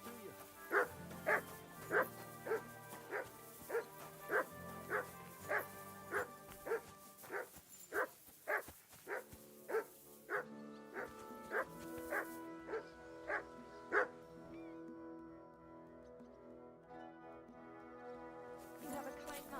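A dog in the game Kingdom Come: Deliverance 2 barks in a steady, evenly spaced run of sharp woofs over low background sounds. The barking stops partway, leaving a fading tonal hum.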